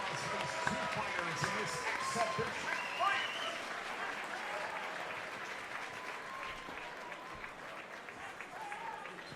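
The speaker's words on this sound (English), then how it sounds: "Please give a round of applause for these two fighters in this exhibition fight." An audience applauds two fighters after an exhibition fight at a combat-sports event, a steady wash of clapping and crowd noise lasting throughout with voices mixed in.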